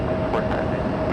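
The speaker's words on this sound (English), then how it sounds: "Eva Air 777 heading over to the 28s for takeoff" An Eva Air Boeing 777 airliner taxis toward the runway for takeoff at San Francisco airport, a steady, loud engine rumble and whine that holds evenly throughout with no other sounds breaking through.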